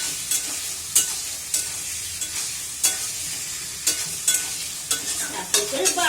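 Spiced potatoes are stirred in a pan with a little added water, the spoon scraping in sharp, evenly spaced strokes over a soft bubbling sizzle, nearby and without talk.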